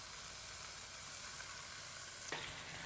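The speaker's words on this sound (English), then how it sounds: "my tuna steak is searing in here" A tuna steak sears in a hot pan with a soft, steady sizzle close by, and a brief scrape or shift of the fish near the end.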